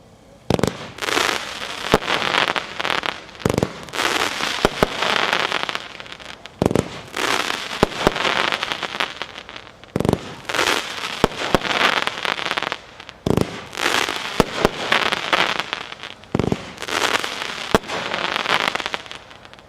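Atlantis Adventure, a 130-shot Gunslinger fireworks cake, fires a rapid barrage of sharp bursts and crackling reports in quick succession, loud and close, with brief gaps between volleys.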